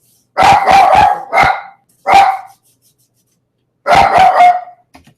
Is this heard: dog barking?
yes